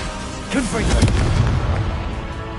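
A Confringo fire spell bursts in Hogwarts Legacy: a sharp blast swells into a loud, booming explosion that rolls on and slowly fades, with a voice calling out over it.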